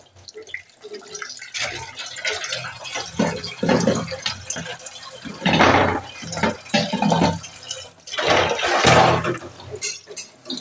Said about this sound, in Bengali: থালা বাসন ধোয়া